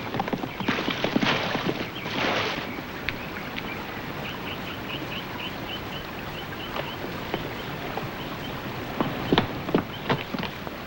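Hooves of a horse in a Western setting clip-clop steadily at a moderate distance, a brisk rhythmic patter running on for several seconds over faint wind, with a few louder knocks near the end.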